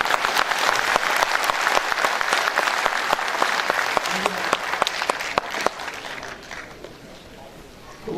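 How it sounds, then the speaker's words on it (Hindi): Hearty audience applause at a talent award ceremony, with crisp individual claps standing out in a loud, continuous burst that thins and fades toward the end as voices murmur underneath. "तो मैडम सफरीना कियानी के लिए और कर्नल अनायत मरूम कियानी के लिए भरपूर तालियां।"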